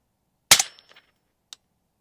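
A single sharp rifle shot from an RD MK1 MOD1 DMR on an outdoor range cracks loudly and fades in a short echo. A faint click follows about a second later.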